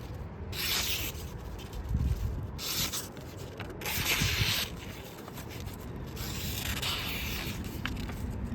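A CPM-10V steel knife slices with a continuous rough, rasping scrape that swells and eases in several strokes, close and fairly quiet.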